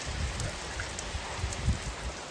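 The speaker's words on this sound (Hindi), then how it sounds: "एक ही जगह पर तगड़ी बारिश हो रही है" Heavy rain pours steadily over a mountain village, a dense continuous hiss of drops on surfaces with occasional low thuds, close and unbroken throughout.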